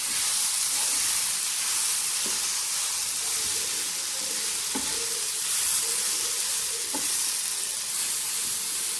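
Jackfruit cooking with grated coconut in a pan, a steady loud sizzle and steam hiss with occasional spoon scrapes and taps as it is stirred, no talking.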